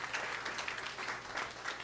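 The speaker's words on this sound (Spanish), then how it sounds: "Un aplauso una vez más para el Espíritu de Dios en esta mañana" A church congregation applauds during a Holy Spirit celebration service, steady soft clapping heard at a distance throughout.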